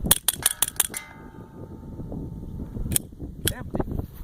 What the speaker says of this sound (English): I'm going to shoot the rest of them as fast as I can.